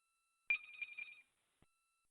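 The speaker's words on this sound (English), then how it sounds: "that's my landline that's ringing in the phone." A landline telephone bell gives one fast metallic trill lasting under a second, clear and alone in a quiet room, followed by a short soft click.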